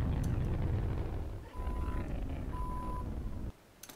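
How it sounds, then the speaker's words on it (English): A jetpack warning beep in the game Unreal Tournament (UT4) sounds as two steady, clear electronic tones over heavy low engine-like rumble, which cuts off abruptly near the end. "here comes the beep."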